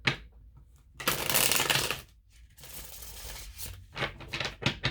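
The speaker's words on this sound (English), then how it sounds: "I'm going to shuffle." Playing cards are shuffled in a few quick riffling bursts with short pauses between, close by and crisp.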